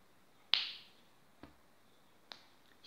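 Finger snaps during a children's rhythm lesson, a few sharp, isolated clicks spaced unevenly apart, the first loud and near, the later ones fainter, with near silence in between.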